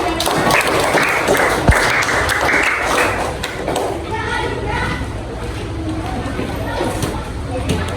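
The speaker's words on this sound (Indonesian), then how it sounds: "Terima kasih Naila, tepuk tangan dulu dong." Pupils in an Indonesian primary-school classroom clap together in a brief burst of applause, with children's voices and chatter mixed in throughout.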